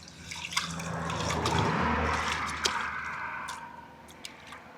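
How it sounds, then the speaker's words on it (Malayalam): Raw chicken is rinsed under running water, giving a continuous splashing rush with scattered drips and squishy handling sounds, fairly close and without talk. "ചിക്കൻ കഴുകുകയാണ്"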